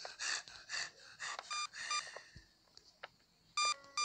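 Electronic beeps sound in a Granny-style horror video game, several short, high tones in an irregular pattern, faint and mixed with soft breathing and gasps.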